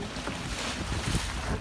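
Wind roars steadily on a ferry crossing to Okunoshima, a loud, continuous buffeting blended with the rush of the boat over choppy water.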